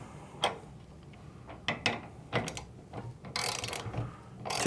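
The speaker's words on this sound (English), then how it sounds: "Grab your torque wrench with your 9/16 inch socket set to 30 foot-pounds" A torque wrench fitted with a 9/16 inch socket clicks and ratchets on snow fence clamp nuts of a rooftop snow retention system, with several separate close ratchet bursts and a longer rapid run near the end.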